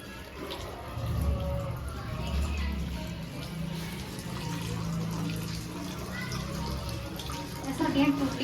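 A household tap runs in a kitchen where potatoes are being washed for tikki. The water pressure is uneven, and the stream gives a continuous, moderately loud splash with brief surges, while people talk nearby.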